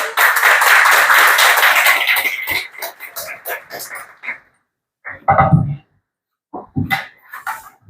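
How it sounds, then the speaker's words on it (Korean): A church congregation at a Sunday morning service claps to welcome a visiting pastor. A loud, dense round of applause fades out after about two seconds, followed by scattered sounds and voices. "박수로 맞이하도록 하겠습니다"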